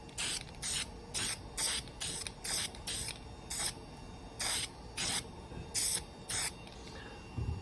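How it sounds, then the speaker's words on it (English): Repeated short bursts of a paint spray can being test-sprayed in red, about a dozen hissing puffs in an irregular rhythm, close and fairly loud over faint room noise, during color laser engraving on wood with an xTool M1. "And I always test spray."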